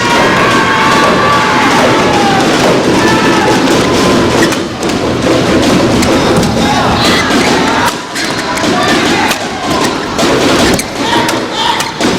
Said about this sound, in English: Excellent point. Brings the crowd to its feet.